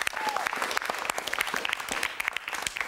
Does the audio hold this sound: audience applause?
yes